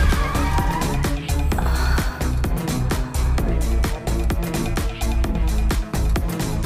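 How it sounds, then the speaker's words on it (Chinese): A car pulls out of an intersection in a Korean suspense drama scene, its tyres skidding with a loud screech and a rushing engine over a busy, rhythmic soundtrack. "小美坐的汽车刚驶出路口，"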